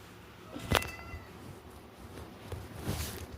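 A cat meows twice, a sharp nearby cry followed a couple of seconds later by a softer one, over quiet room noise.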